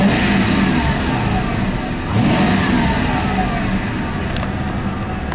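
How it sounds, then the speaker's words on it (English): A Ford Crown Victoria Police Interceptor V8 engine revs continuously, loud and close, dipping briefly around two seconds before climbing again, with a steady exhaust roar throughout. "Man, I love that Police Interceptor sound."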